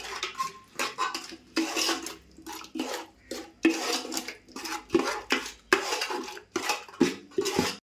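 Vegetable biryani ingredients being mixed with oil left from frying onions in a cooking pot, heard as a rapid series of metallic scraping and clanking strokes from a utensil against the pot, close and fairly loud with short gaps.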